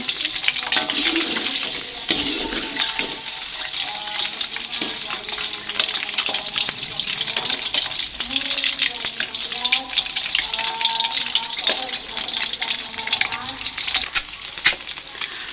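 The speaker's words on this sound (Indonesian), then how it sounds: "Goreng sampai kulitnya setengah garing aja gitu teman-teman." Quail eggs sizzle and crackle in hot oil in a pan, a steady loud frying hiss throughout with occasional stirring and clinks, no speech over it.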